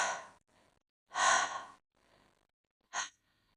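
A creature breathes heavily nearby in a bedtime horror story about a wendigo, with three breaths that are long, then faint, then a short sharp exhale, heard alone in quiet.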